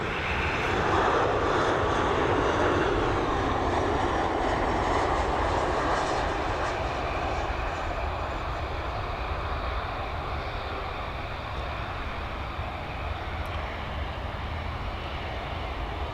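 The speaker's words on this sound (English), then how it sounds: "coming in from Amsterdam. I think it's an E175, I can't really read it." A KLM Cityhopper Embraer E175 jet arriving at Dublin Airport from Amsterdam gives off a steady, broad engine roar that stays strong, then eases slightly over about sixteen seconds, heard from a distance with no talking.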